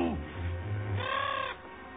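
A bird squawks in a few harsh, nasal calls over a low rumbling background, close and fairly loud.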